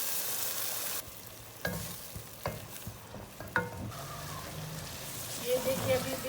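Boiled chana dal fries with spinach in a pan, a soft continuous sizzle broken by several sharp scrapes and clacks as the mixture is stirred, close up.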